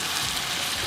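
Butter sizzles steadily in a pan with shrimp and vegetables for a garlic butter dish, a dense continuous hiss and crackle close by with no talk over it.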